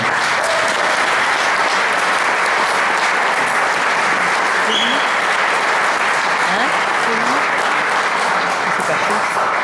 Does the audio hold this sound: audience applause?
yes